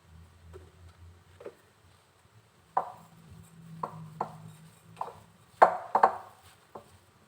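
Grated cassava mixed with granulated sugar, vanilla and salt being stirred in a bowl, giving sparse, irregular light taps and soft scrapes, growing a little busier toward the end.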